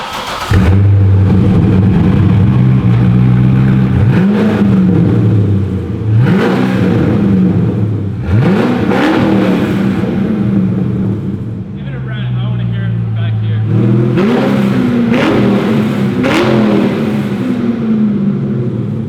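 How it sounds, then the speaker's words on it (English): A Corvette Z06 7-liter V8 with its exhaust cut off revs repeatedly, loud raw bursts that climb and fall over a rough idle, each rev rising sharply then dropping back, with people talking between them. "I don't know if I've ever heard a straight pipe 7-liter V8, but I'm excited to hear."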